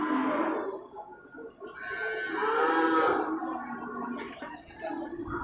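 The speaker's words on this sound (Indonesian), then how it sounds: "Di sal bagian tengah ini kan banyak terlihat sapi indukan ya." Mother cows with calves low at a livestock market in Bireuen, a few long, drawn-out moos close by, one after another, over a murmur of background noise.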